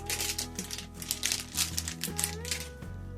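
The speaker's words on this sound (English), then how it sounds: "Let me see if I can get all this tape off here right quick." Packing tape being peeled and pulled off a new Epson EcoTank 1913 printer, a run of close crinkly rips and crackles with steady low hum beneath and no talk.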